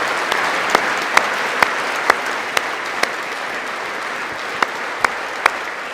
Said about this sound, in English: Who's clapping right into their fucking microphone?